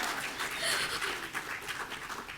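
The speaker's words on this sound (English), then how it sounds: "Now you can applaud." Audience applause at an awards ceremony: steady, dense clapping from a crowd filling the hall, even in level throughout, with faint chatter mixed in.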